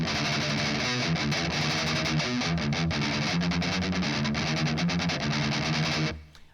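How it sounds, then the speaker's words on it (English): A distorted electric guitar tremolo-picks the verse riff of a song in fast, dense 16th notes, loud and continuous for six seconds before cutting off, with no voice over it. "So the whole riff will sound like this."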